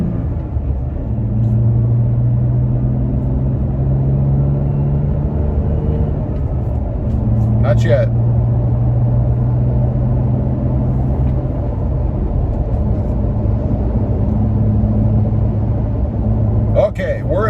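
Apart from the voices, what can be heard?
Toyota Tacoma cabin noise accelerating to highway speed, windows shut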